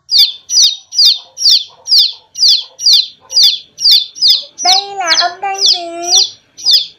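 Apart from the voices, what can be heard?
chick peeping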